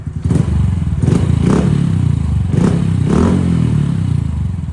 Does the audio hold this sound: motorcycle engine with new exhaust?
yes